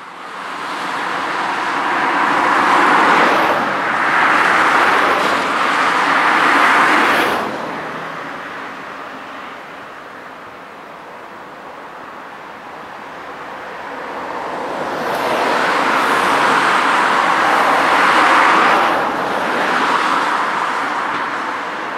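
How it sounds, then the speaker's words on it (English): A car comes along a road and passes, its engine and tyre noise swelling loud, fading, then rising again as more traffic approaches; no talk. "You can hear the car approaching."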